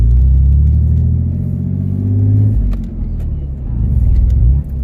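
A stock 1998 Mustang fitted with aftermarket exhaust tips idles and rolls along with a steady low engine rumble and a mild swell in revs, heard from inside the car while someone talks over it.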